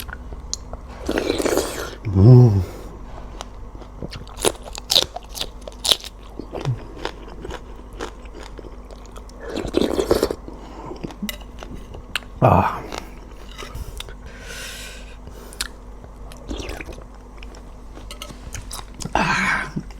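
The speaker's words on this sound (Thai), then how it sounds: "นี่กินน้ำมักพริกแซ่บๆเลย" Crunchy bites and chewing of laap eaten with a spicy chili dip, close to the mic, coming in scattered bursts while a person talks intermittently.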